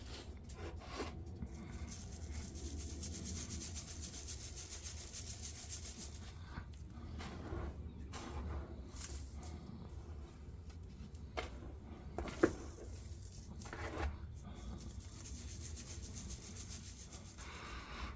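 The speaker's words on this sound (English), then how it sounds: "so I've sifted the sand. As you can see, it's lovely and fine." Sand being sifted and rubbed by hand for aluminium sand casting, a quiet close scratchy rustle in uneven strokes with brief soft knocks, no voices.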